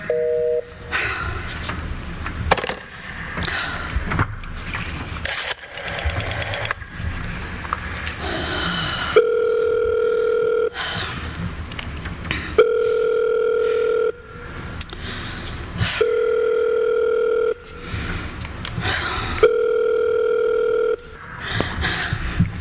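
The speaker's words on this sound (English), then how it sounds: "I've been dialing Murray Hill 70093 now for the last 3/4 of an hour, and the line is always busy." A telephone in a radio drama sounds a busy signal repeatedly, steady tone bursts separated by pauses, preceded by clicks and rattles of dialing; no one speaks.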